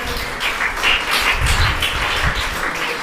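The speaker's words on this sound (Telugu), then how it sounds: "కొద్ది గట్టిగా చప్పట్లు కొట్టవచ్చు కదా" An audience at a church festival claps together in a steady patter of applause, moderately loud and continuous, with no talk over it.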